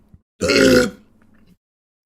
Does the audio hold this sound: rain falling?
no